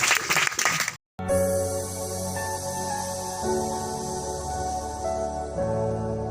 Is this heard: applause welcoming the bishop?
yes